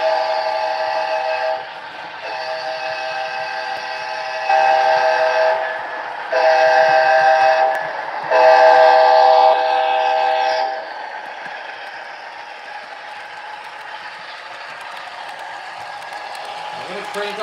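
An Amtrak model train runs on a home layout, its multi-tone horn sounding in several long blasts over a steady electronic running rumble that continues after the horn stops.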